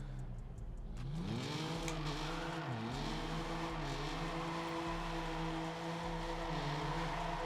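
A car drifting in the Test Drive Unlimited Solar Crown racing game, its engine note sweeping up and holding a steady high whine over broad tire and road noise, loud and close throughout.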